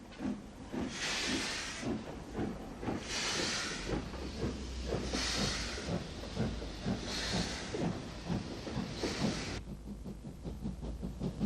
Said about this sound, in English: UG number 49 heads a heavy passenger train out of the station.